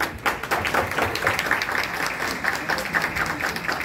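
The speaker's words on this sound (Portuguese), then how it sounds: "Palmas para ela." Dense, steady audience applause for a moderator at a Brazilian round-table panel event, many hands clapping together at a moderate level without a break, with no talking over it.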